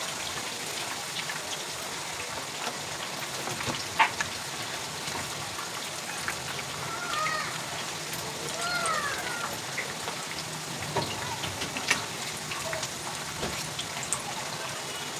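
Chicken satay skewers frying over a medium-low flame, giving a soft continuous sizzle and crackle with occasional small pops, fairly quiet and unbroken by speech.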